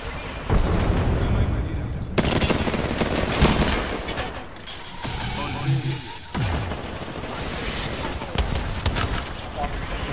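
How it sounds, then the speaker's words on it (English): Heavy gunfire in Apex Legends Ranked Arena, with bursts of rapid shots and booming impacts coming in loud waves as players call out to each other over the din. "I'm getting shot!"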